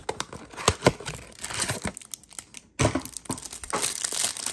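Someone opens a 2023 Topps Series 1 baseball hanger box with continuous crinkling and tearing of packaging and card wrappers, close and busy, with brief pauses between rustling bursts.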